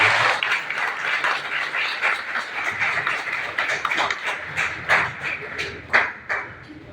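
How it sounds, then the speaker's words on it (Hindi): A crowd at a political gathering welcomes a BJP national general secretary with scattered clapping, mixed with taps and a blurred background of voices. Loud peaks come near the end. "बड़े भाई श्री दुष्यंत गौतम जी का जोरदार तालियों से स्वागत है"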